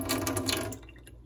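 Clean water runs on a homestead, a steady hiss of flow close by that fades out within about a second.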